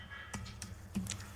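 A few quick keystrokes on a computer keyboard, three soft distinct clicks close by over faint room hum, with no talking.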